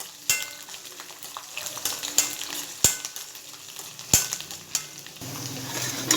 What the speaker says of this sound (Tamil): வெள்ளைப்பூடை நல்லா வதக்கி விட்டுறலாம்.